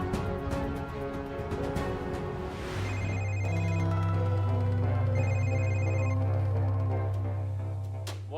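A phone rings during a tense TV drama scene, with a repeating electronic ringtone over a loud, sustained low background music bed. No speech is heard.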